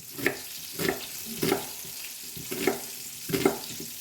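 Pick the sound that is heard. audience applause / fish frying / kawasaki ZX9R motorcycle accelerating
fish frying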